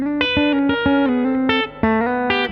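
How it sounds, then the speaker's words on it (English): Bright, twangy Fender Telecaster bridge-pickup notes plucked in a quick rhythmic phrase, clean and close, each note ringing briefly before the next. "Let's listen to the bridge pickup. It's a little bit crunchier, a little bit twangier"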